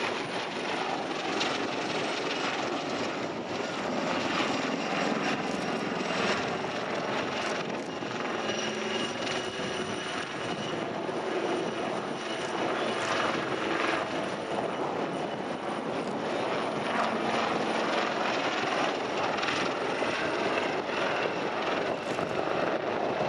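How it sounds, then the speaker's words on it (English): Aircraft fly wingovers in a flying display at the RIAT 2016 air show, giving a loud, sustained engine roar that swells and fades slightly as they turn, with no voices. "Now wing over from each aircraft there as they utilise the full envelope of the aircraft's ability to turn."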